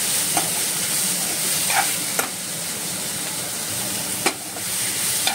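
Continuous loud hiss of cashew nuts roasting in a hot pan, broken by a few sharp clicks of stirring; no talking.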